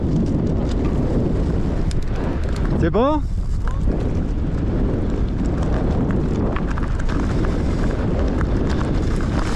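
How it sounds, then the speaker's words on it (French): Strong wind buffets the microphone at La Moulière mountain bike park, a constant loud rushing roar with a brief tonal whoosh partway through and a short spoken phrase. "Putain de vent."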